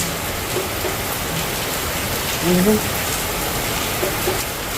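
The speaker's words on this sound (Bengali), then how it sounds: "পুরো বৃষ্টি পড়েছে" Heavy rain pours down steadily in a dense, even hiss of drops striking surfaces, loud and continuous, with a brief voice rising over it partway through.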